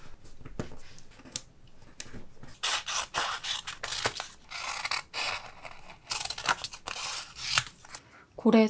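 Scissors snipping around large stickers to leave a white border, a run of close, crisp cuts and paper rustles with brief pauses, while a voice talks over part of it.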